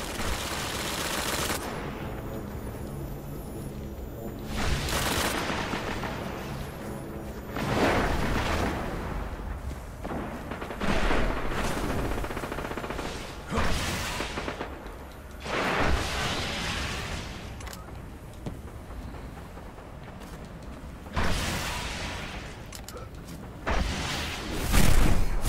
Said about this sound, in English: I missed with that fucking rocket